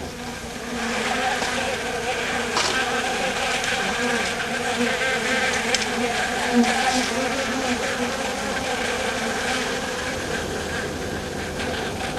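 Stingless bees swarm around their hive, producing a steady, dense insect buzz that drones on without pause for the whole stretch, close and fairly loud with no voices.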